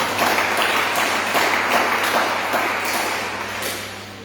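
Congregation applauding at a church service, a dense, sustained wash of clapping from many hands that stays loud and then tapers slightly toward the end.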